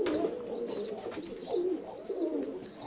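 Young pigeons in a loft coo softly and repeatedly, low throaty rolling calls close by, with a thin high chirp recurring in the background.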